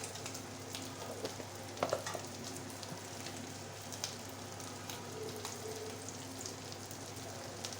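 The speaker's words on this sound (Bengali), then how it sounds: "আদা রসুন বাটা মশলা ভালোভাবে কষিয়ে নেবে" Ginger-garlic paste and spices fry in a pan with a steady, close sizzle and a few brief stirring scrapes, no voices.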